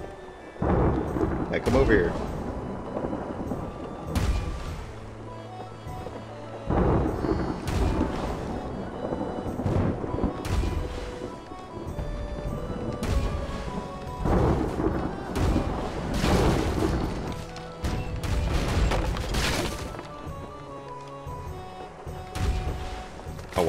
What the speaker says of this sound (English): Let's use lightning cannonball so we can get him over here.